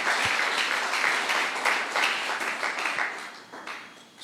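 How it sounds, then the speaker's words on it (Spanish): A church congregation claps together in a sustained burst of applause that fills the room evenly and tapers off toward the end. "Dele un aplauso al Señor, iglesia."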